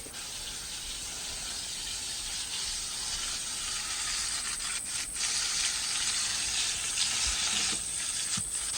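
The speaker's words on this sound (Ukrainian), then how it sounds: "викладаю на сковорідку, буду обсмажувати" Continuous crackling sizzle of fish frying in a hot pan, close and steady, with occasional light scrapes and clinks.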